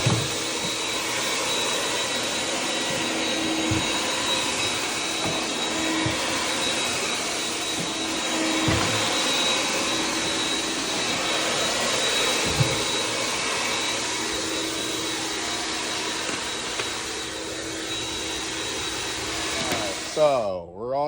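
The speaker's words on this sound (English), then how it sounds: "So we're all done with the shop vac" A shop vac roars continuously while vacuuming a floor during professional floor cleaning, a loud steady whine with occasional bumps and shifts, and someone talks intermittently beneath it before it winds down at the end.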